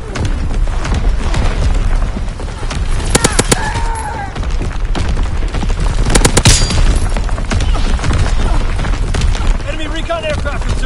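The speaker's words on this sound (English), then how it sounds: "Incoming enemy artillery." Enemy artillery explosions and heavy gunfire pound continuously in a video game battle, a loud dense barrage of booms and crackling shots filling the whole stretch, with game voice announcements over it.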